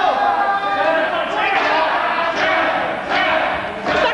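Loud, dense cheering and chatter from an overzealous crowd at an indie wrestling match between Arik Cannon and Colt Cabana, a continuous roar with surges and shouts throughout.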